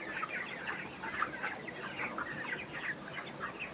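Chickens on a broiler poultry farm cluck and chatter continuously, many birds overlapping in a steady, moderately loud flock murmur with no talk.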